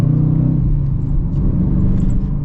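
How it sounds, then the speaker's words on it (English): The engine of a 2023 Dodge Challenger R/T with a manual gearbox rumbles steadily as the driver rev-matches a downshift, heard from inside the car without talk. "you can pretty easily rev match downshift in this"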